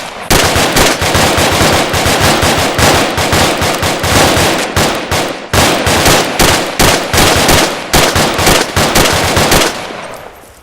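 Loud, close rifle and automatic gunfire from a live-fire training exercise crackles in rapid bursts of sharp shots, with two brief pauses, then stops and fades out near the end.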